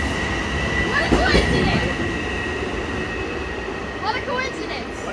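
A subway train, likely an E train, rumbles past on elevated tracks at Woodside, loud and close, with wheels squealing and clattering as people talk excitedly over it.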